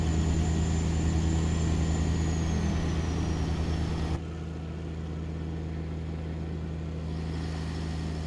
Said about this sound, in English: an airplane going over